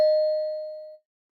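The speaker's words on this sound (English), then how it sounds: "Let's ring the bell." A single bell ding used as a sound effect rings out once, clear and close, then decays smoothly for about a second before cutting to silence.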